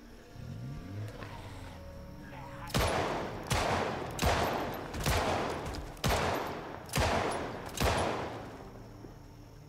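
Gunfire in the video game Project Zomboid: seven sharp, loud shots in a steady series, each with a short decaying tail, over a low background hum.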